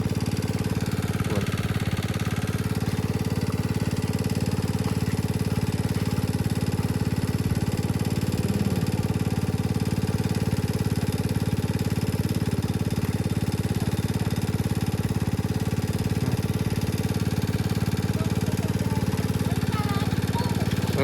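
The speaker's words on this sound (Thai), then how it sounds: "เสียง เครื่องสูบน้ำนะครับ" A water pump engine runs outdoors in rural northeastern Thailand during freshwater shrimp catching, giving a loud, continuous, steady mid-pitched drone with a faint knocking texture, close by and unbroken throughout.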